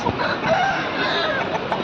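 Native country chickens and roosters at a Telugu livestock market, including fighting-breed birds, crowing and clucking close by amid dense crowd noise throughout the short stretch.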